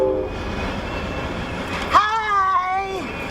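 A slow-moving Amtrak passenger train rumbles past, its steady low roll carrying faint squealing wheel tones that rise and bend near the end, with a voice audible underneath.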